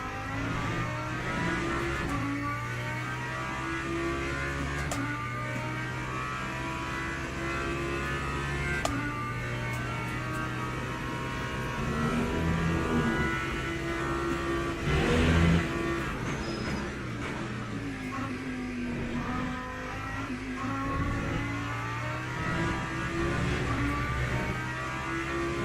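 GT3 race car lapping Le Mans in the Le Mans Ultimate racing game, its engine droning and revving steadily through gear changes for the whole stretch, loud and continuous with no talk.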